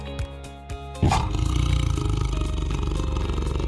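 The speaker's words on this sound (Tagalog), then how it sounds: "Ang roar ng isang tiger ay maaaring marinig almost 3 kilometers away." A tiger lets out a deep, loud sustained roar up close, preceded by a few brief low thumps and a short growl-like sound before the roar swells.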